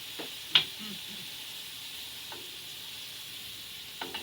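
Mushrooms searing on a hot spatula, giving a faint, steady hiss with a few brief sharp pops and crackles, quiet and close.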